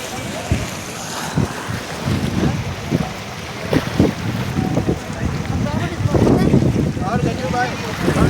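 Sea waves wash and surge along the shore at Haji Ali, a continuous rushing roar with heavy wind buffeting on the microphone and crowd noise and voices mixed in.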